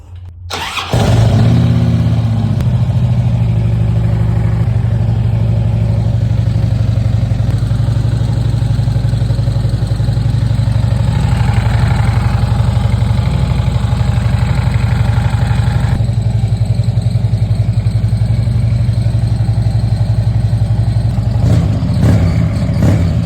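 A motorcycle engine fires up right after reassembly and settles into a loud, steady idle that runs on for about twenty seconds, close to the microphone and with no talking.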